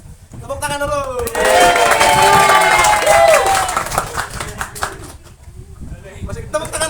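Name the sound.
audience applause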